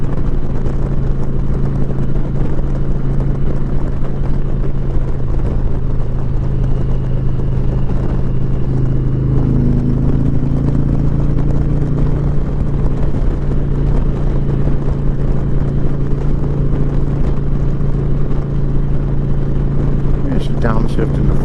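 Steady, loud drone of a 2021 Indian Challenger Limited motorcycle engine on an open road ride, holding a constant rumble with wind noise throughout and a short voice near the end.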